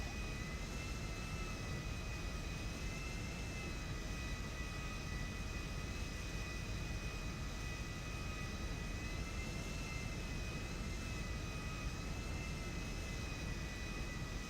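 A video-game aircraft engine hums steadily while taxiing to a hangar after clearing the runway, a continuous, even jet-like whine with a constant tone and no talking.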